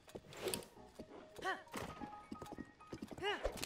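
Horse hooves clip-clop in the video game Tears of the Kingdom, with a whinny and game effects mixed in, while someone talks over the scattered hoofbeats.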